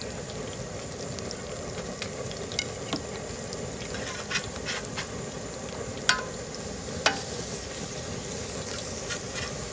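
Pork patties sear on a Southwest Disk griddle with multiple cooking zones, a quiet steady sizzle punctuated by occasional sharp pops and crackles.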